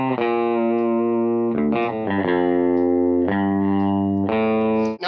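A clean electric guitar rings out through an amp with delay and reverb turned off, sustained chords changing every second or so, dry and fairly loud with no echo trailing off.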